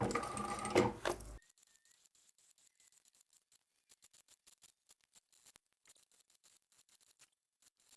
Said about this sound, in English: We're going to stitch that together, and just be careful you don't get puckers as you're going.